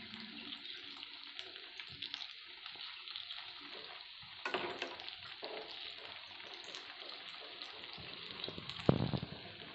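Sabudana tikki frying in a pan, a steady close sizzle of hot oil with occasional louder crackles and bursts as the patties are turned, no talk.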